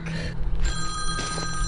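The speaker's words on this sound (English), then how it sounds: "My phone. Let me get my phone." A phone rings in the woods, its bright repeating electronic tone sounding close and clear over faint outdoor background noise.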